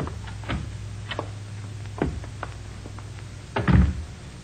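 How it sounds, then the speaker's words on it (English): A door opening and closing in an old detective radio drama, heard as a few close thunks and clicks, ending in a heavier knock-like bump, with no talking. "We go out this door here."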